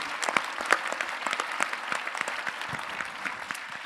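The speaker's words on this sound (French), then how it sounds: "Je pense qu'on peut encore vous applaudir" Round table participants receive applause from the audience, many hands clapping in an even, sustained patter with a few sharper claps standing out nearby.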